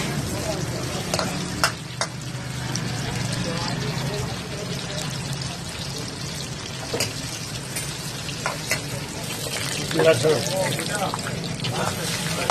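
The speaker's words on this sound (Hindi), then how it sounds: "गरम हो उसके बाद थोड़ा सा प्याज डाले इसमें, अनियन।" Chopped onion tossed into hot oil for dhaba-style chana dal, a steady close sizzle with occasional stirring scrapes running throughout.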